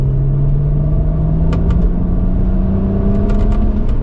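A 2009 BMW 135i with a manual gearbox pulls in third gear from 2,500 RPM, its engine giving a loud, steady rumbling drone that rises slowly in pitch as revs climb, heard from inside the car.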